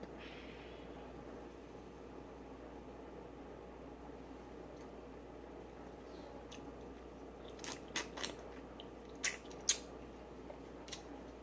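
Shrimp being bitten and chewed at a lobster tail and shrimp meal with butter sauce: a few soft crunchy bites and wet chews come late, close to the mic, over a quiet steady background hiss.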